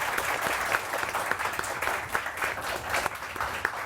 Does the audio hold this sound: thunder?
no